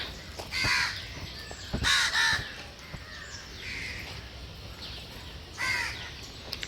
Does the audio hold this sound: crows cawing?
yes